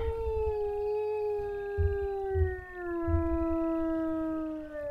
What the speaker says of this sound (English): Oh, you have a really long howl.